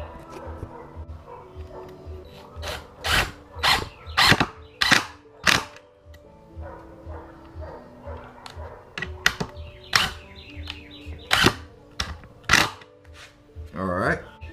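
Screws being driven into a homemade camera tripod dolly, a series of sharp clicking, rattling bursts in uneven clusters, close and fairly loud, with some background voice between them.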